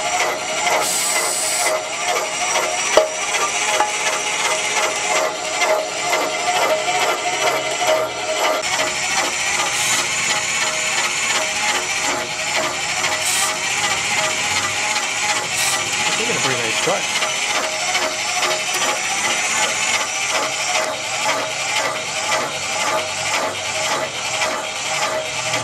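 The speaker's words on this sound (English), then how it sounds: "Okay, he's taking a cut at a higher speed RPM." Q88E line boring machine cutter taking a cut at higher RPM, a steady, rhythmic mechanical chattering and whirring with hissy machining noise that continues throughout, with people talking over it.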